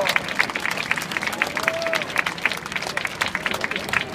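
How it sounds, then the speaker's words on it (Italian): Outdoor crowd applauding on the beach at Andora during a Frecce Tricolori air show in 2013, a steady patter of many hands with a faint jet whine passing briefly in the middle, voices mixed in. "salutiamolo con un grande applauso"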